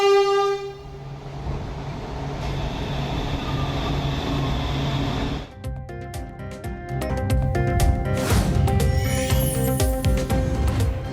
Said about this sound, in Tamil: சென்னை போரூரிலிருந்து பூந்தமல்லி வரை மெட்ரோ ரயிலின் 3ஆம் கட்ட சோதனை ஓட்டம் வெற்றி.